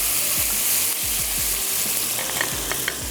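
Masala sizzles steadily in a hot pan while being stirred for a chapli kabab and yakhni rice dish, a dense continuous frying crackle with soft scraping strokes and no talk.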